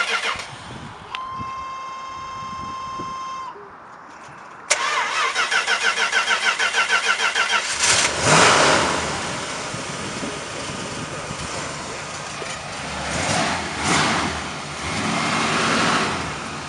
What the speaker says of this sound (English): let's start to fire up that 440